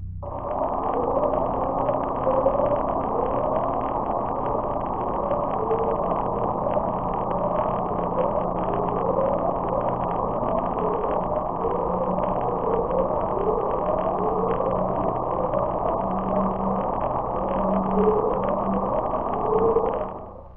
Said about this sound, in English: it's thought to possibly be bubbles from a volcano which are getting trapped in a cave or overhang above, which is causing this strange sound